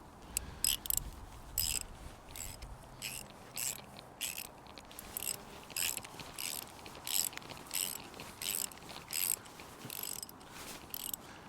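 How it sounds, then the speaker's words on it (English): A ratchet wrench clicks in quick repeated bursts while a screw-in ground anchor is driven into the ground outdoors, close and fairly loud against a quiet background. "Go up with my ratchet wrench"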